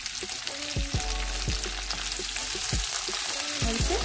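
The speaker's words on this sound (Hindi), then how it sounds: "और इसे भून लेंगे।" Onion and bell pepper frying in a pan for chilli chicken make a steady, close sizzle, broken by several sharp scrapes and clinks of stirring, with no talking.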